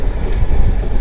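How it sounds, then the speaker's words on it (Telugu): A MEMU express train between Vijayawada and Tirupati runs at speed, a loud, dense wheel-on-rail roar with rattling carriage noise heard from onboard, no voices. "మంచి స్పీడ్ అయితే లాక్కొని వెళ్తున్నాడు మన ట్రైన్"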